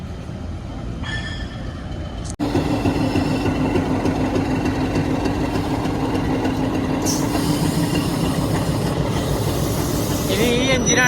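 A diesel locomotive of the Ooty toy train idles loudly and steadily at a station while it is coupled, a thump early on and then a continuous deep engine drone, with faint voices around.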